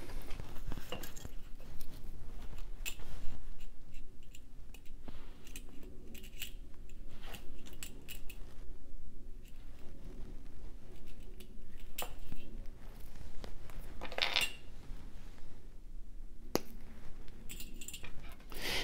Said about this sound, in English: I'm going to cut as many 4-inch segments as I can.